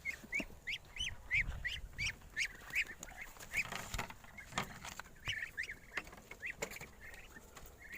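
A domestic duck quacks in short repeated bursts at a backyard poultry swap, moderately near and uneven in rhythm, with scattered handling noises and light background clatter in between.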